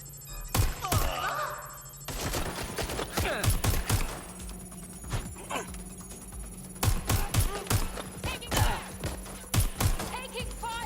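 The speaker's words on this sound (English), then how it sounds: "Taking fire!" Gunfire in the Watch Dogs Legion video game, with rapid bursts and sharp single shots clustered in groups, loud and close, interspersed with thuds and some background talk.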